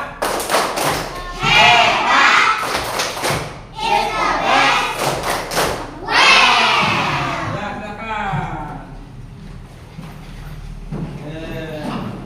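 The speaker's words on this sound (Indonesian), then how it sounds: "Kita kasih reward yang dengan tepuk hebat." A group of fourth-grade schoolchildren claps out a fast rhythmic pattern in unison, bursts of clapping mixed with shouted chanting voices, loud and close, fading toward the end.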